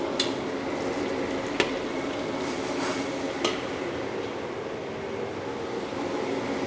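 Margarine fries in a pan with a steady hiss, broken by a few sharp metallic clinks of utensils against the cookware, with no voices.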